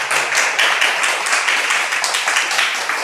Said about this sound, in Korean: 우리 감사의 박수 한번 올려주시면 좋겠습니다